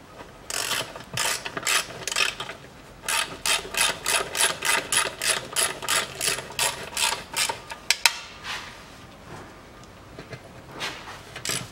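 A hand ratchet clicks in quick repeated bursts while tightening the bolts of the automatic transmission oil pan on a 2008 Mitsubishi Pajero 3.2 litre, close and steady with brief pauses between strokes.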